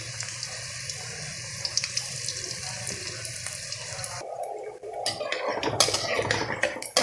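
Noni saag pakoras fry in hot oil with a continuous hiss and bubbling sizzle. The sizzle shifts to a busier, crackling burst partway through. It is fairly quiet, close up, and no one speaks.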